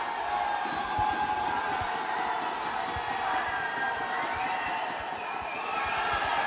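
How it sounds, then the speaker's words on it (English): Fans cheer and roar in a sustained, loud wash of crowd noise at a 2012 swimming competition, with some voices audible in the mix. "You can hear the crowd going wild here."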